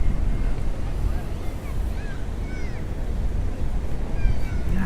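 Water and waves wash steadily at a beach in San Clemente, California, a broad, continuous rushing under wind noise, with faint higher cries drifting over it.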